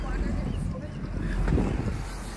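A Yamaha outboard motor drives a dinghy across San Diego Bay, a steady broadband drone mixed with heavy wind buffeting the microphone, continuous and close.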